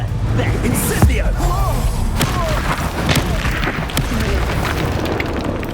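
Incendio fire spells cast in Hogwarts Legacy combat, a steady roar of magical blasts, bursts and thuds layered with whooshing effects and shouted spell voices throughout.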